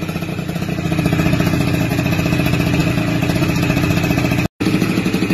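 A motorcycle engine with a Chinese Keihin-type carburettor runs steadily at close range, its exhaust giving off a rough, rapid popping and crackling that continues throughout, cut by a brief dropout near the end.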